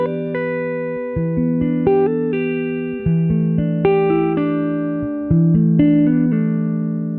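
Strummed guitar chords played across all strings in a steady vamp, each strum ringing with bright harmonics and changing chord shapes, clear and close with no voices.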